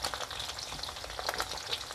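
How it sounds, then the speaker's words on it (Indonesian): Garlic, shallots and ginger frying in a wok, a dense crackling sizzle with bursts of spatter and stirring, close and continuous with no talk. "Kita goreng sampai benar-benar kulitnya berubah warna"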